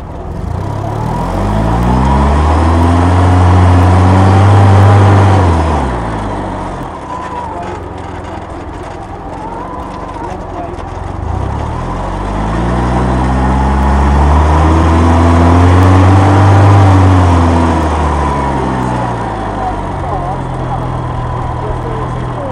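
A car driven through a left turn with a passenger aboard, the engine swelling and easing in long sweeps as it revs up and down, loud and close, with voices talking over it.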